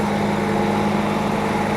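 A concrete pump truck's engine runs steadily on a job site pouring footings, giving a continuous droning hum with a strong low tone that holds at an even level throughout, with no talk.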